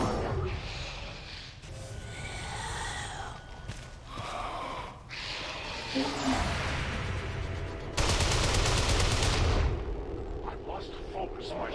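Gunfire and explosive blasts in the video game XCOM 2 come in dense, loud bursts, with voices and gasps mixed in among the shots.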